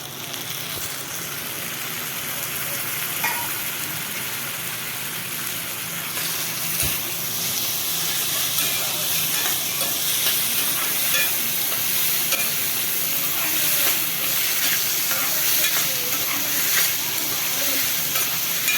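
Tomatoes sizzling and frying in a pan with ginger-garlic paste while being stirred, a steady crackling hiss with scraping stir strokes and a faint knock, fairly quiet and continuous.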